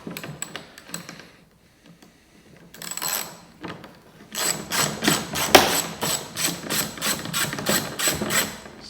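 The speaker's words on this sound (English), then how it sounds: "you're going to want a socket bar with an extension bar and then a 10mm socket on the end" Socket wrench fitted with an extension bar and a 10mm socket undoing rear light bolts on a Citroen C1, the ratchet clicking close up in a fast, rapid series after a few scattered taps and a brief pause.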